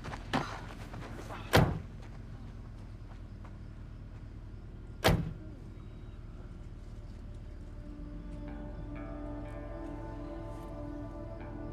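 Car doors thump shut twice, a few seconds apart, against a steady low hum of the vehicle as people get out of the car; no talking.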